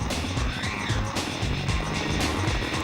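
Suzuki K7 sport motorcycle engine revving hard on a race track, loud and close with rising and falling pitch as the rider works through the gears coming out of a corner.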